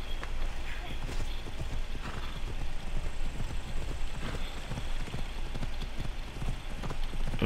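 Hooves clip-clop at a steady pace with occasional whinnies over a continuous outdoor ambience in the video game Assassin's Creed Odyssey, no one speaking.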